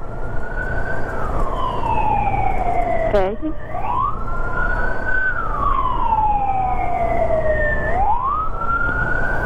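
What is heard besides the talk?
ambulance siren on a Saigon street at night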